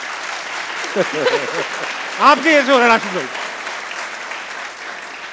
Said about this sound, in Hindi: जरा तालियां बजाएं।